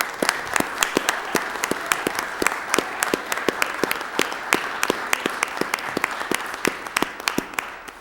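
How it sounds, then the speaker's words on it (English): Lowell City Council chamber applauds the youngsters who won a snowman contest, a steady round of many hands clapping with several crisp individual claps standing out close by, lasting throughout. "How about if the council and everyone gives those youngsters a round of applause for the inspiration?"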